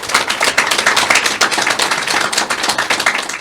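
An audience at a Hindi stand-up comedy show claps steadily, a dense, loud patter of many hands sustained without pause and with no talk over it.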